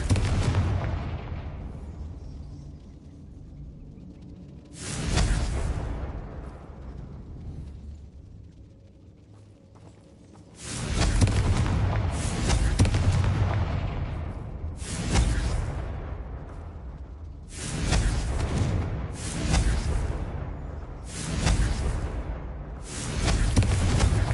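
Repeated Confringo spell blasts in Hogwarts Legacy, a series of loud booming bursts, each with a rumbling tail, some spaced apart and others coming in quick succession.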